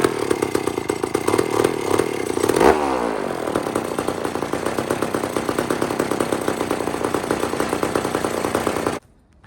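An old chainsaw engine, one with a cheaply made starter, runs steadily with a loud, buzzing two-stroke drone, its revs dipping and swinging near the start before holding a rough, even rattle and then cutting off abruptly.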